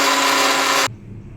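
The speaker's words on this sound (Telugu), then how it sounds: "ఇప్పుడు దీన్ని మళ్ళీ మిక్సీ పడతాం." A mixer grinder blends a banana milkshake with chilled milk, its loud, steady motor whine running close and alone before cutting off abruptly, leaving a faint hum.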